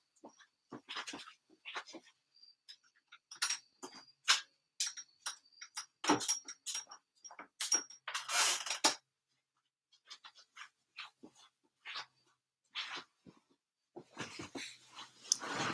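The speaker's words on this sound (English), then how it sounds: "let me close this window so you guys don't have to hear the dog barking" A dog barks repeatedly in irregular bursts, some sharp and loud, with short pauses between volleys; no one speaks.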